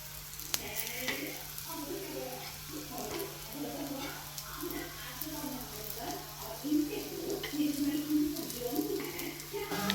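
Slices of raw jackfruit sizzling in a pan, browning on one side, with a steady crackle running under someone talking.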